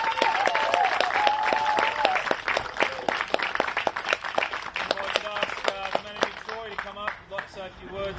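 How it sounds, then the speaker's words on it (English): A crowd at a junior league grand final presentation applauds the silver-medal runners-up from Cronulla, with sharp individual claps and cheering whoops over dense clapping that thins out toward the end. "if we could please give a round of applause to this year's runners-up"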